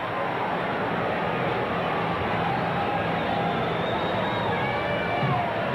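A large baseball stadium crowd of about 40,000 at Candlestick Park stands doing the Tomahawk chop during a 1991 Astros–Braves game. It comes through as a dense, steady roar with no clear breaks, heard over a radio broadcast.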